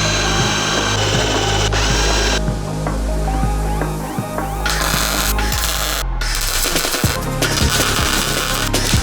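A power drill bites into the sheet metal of a Subaru WRX STI's inner sill during rust repair, with loud whirring bursts, ratcheting clicks and brief pauses between runs.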